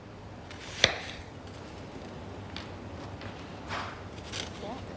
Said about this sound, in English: Sam's chopping onions.